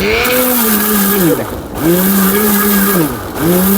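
A powerful electric blender whirs at top speed chopping garlic cloves, its loud close motor whine dipping twice as the load shifts, then surging back, with no talk.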